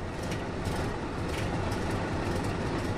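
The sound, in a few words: tank engine running in Tank Mechanic Simulator video game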